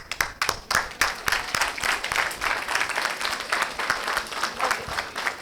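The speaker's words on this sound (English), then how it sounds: "Let's clap for it." Workshop audience clapping in a room: a modest group gives irregular, fairly close hand claps with distinct individual slaps, steady for several seconds.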